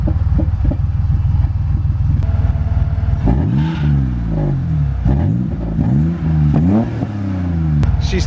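Several sharp throttle blips from an engine-swapped BMW E30 with a custom exhaust rise and fall between a lumpy idle, loud and close, with a throaty, slightly rattly tone.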